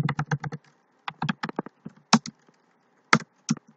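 Quick bursts of clicky keystrokes on a computer keyboard while code is typed, in uneven clusters with short pauses, close and clear with no talking.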